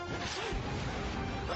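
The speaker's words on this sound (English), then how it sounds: "The car smashes into the house and the kids escape in it." A car smashing into a house in an animated superhero film scene: a loud, dense crash of crunching and breaking that rolls on steadily for over a second, with no talking.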